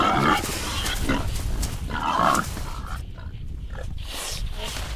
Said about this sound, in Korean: 도토리밭은 멧돼지 새끼들의 먹이터다.